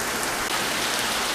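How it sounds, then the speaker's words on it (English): Heavy rain pours down hard in a dense, unbroken hiss and patter, loud and close. "The rain's coming too hard."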